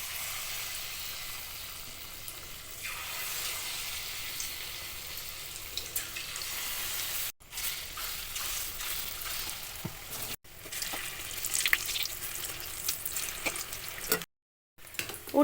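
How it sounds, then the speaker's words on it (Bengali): Semolina batter frying in hot oil in a kadai, a steady broad sizzle with crackling bursts and a few brief breaks, fairly quiet and close, no talk. "এবারে সুজির এই ব্যাটারটা ভেজে নেব।"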